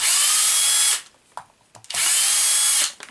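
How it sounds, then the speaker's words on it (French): Cordless power screwdriver driving screws into a model, two loud, close whirring bursts of about a second each separated by brief clicks and handling, no voices. "Et maintenant tu vas voir pourquoi j'ai une visseuse."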